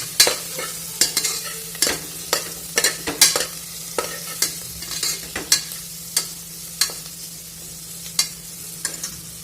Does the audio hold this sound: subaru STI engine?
no